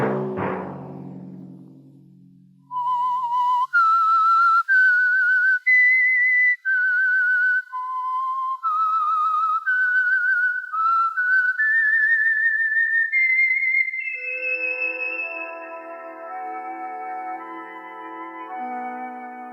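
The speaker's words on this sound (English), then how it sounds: "Let that whistle be your signal for the Signal Oil program, The Whistler" A lone whistled melody serving as the signal theme for the Signal Oil radio program The Whistler, clear and close: a stepwise tune of held notes that climbs to a sustained high pitch, then gives way to a soft orchestral chord.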